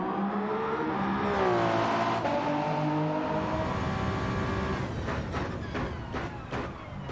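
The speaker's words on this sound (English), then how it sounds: "Heavy braking at the end of the Mulsanne" A Toyota GR010 race car in Gran Turismo 7 at Le Mans brakes hard at the end of the Mulsanne straight, its loud engine whine dropping steeply in pitch, then rough, crackling engine noise as the car slows.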